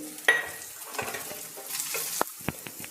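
Onion, beans and curry leaves frying in a pan, a crackling sizzle broken by sharp spatula taps and scrapes, close and moderately loud, with no talking.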